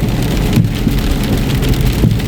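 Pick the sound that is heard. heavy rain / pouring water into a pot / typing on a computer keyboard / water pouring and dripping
heavy rain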